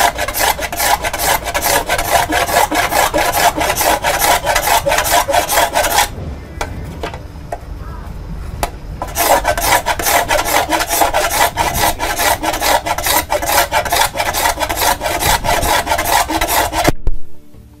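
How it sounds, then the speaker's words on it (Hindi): A piece of iron rubbed hard across a bell metal plate in a Sarthebar workshop, producing loud, rhythmic rasping strokes for several seconds, a short quieter pause, then more steady scraping that stops abruptly. "अभी हमको डेमोंस्ट्रेशन करके दिखाएंगे प्लेट पे जब आयरन को रब करते हैं तो उसका रंग"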